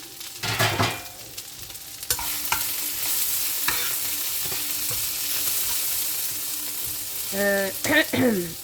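Food sizzles and crackles steadily in a hot pan, with scraping and stirring clatters at the start and end.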